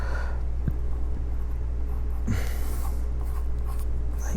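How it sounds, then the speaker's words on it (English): Pencil or marker scratching and rubbing across paper while drawing a teddy bear in a first-grade art lesson, steady close strokes with a few light taps, no talking. "I'm going to draw a teddy bear."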